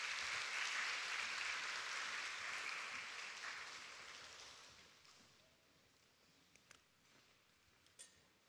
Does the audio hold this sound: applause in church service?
yes